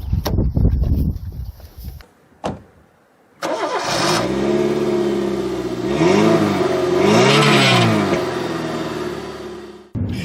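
A 2007 Suzuki Ignis GL VVT engine cranks and catches after a few clicks and clunks, then settles into a steady idle and revs up twice as the small car pulls away, close and loud.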